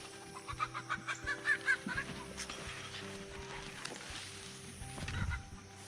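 Chickens cluck in a quick, rhythmic series of short calls nearby, followed by softer scattered clucks and rustling in the background.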